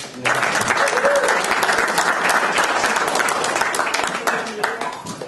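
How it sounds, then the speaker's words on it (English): A crowd at a candidate night event breaks into a sustained round of applause, dense clapping that holds steady for several seconds before tapering slightly at the end. "the same round of applause for everybody that came and took the time out of your week to come here"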